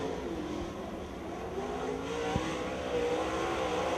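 Race car running a timed qualifying lap at a north Georgia track, a steady engine drone with climbing revs, heard from a distance and fairly faint throughout.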